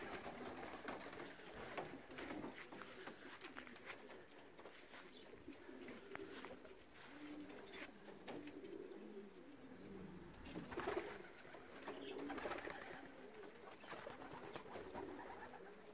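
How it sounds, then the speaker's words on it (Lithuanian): Racing pigeons in a loft in Lithuania, with soft, steady cooing and rustling close by, quiet and continuous with no talking. "Nu, o kur balandžiai?"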